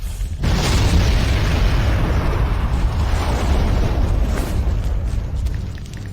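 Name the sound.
explosions in a building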